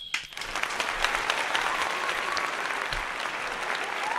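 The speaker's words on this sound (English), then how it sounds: "Can we get a round of applause from him, Ray?" A round of applause from an audience rises quickly and holds as a dense, fairly loud wash of clapping for several seconds, with some crowd noise mixed in.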